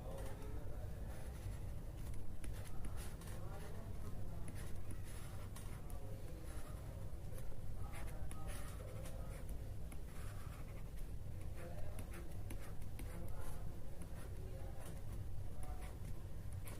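Pen writing on paper during a chemistry lesson worked out by hand: continuous soft scratching and tapping strokes at a steady pace over a constant low background hum, with no talk.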